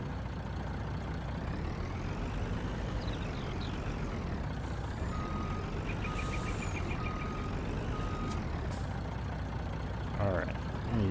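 Truck in a farming video game hauling corn to sell, a steady engine rumble running throughout with a regular series of reversing beeps in the middle and a short hiss like an air brake near the end.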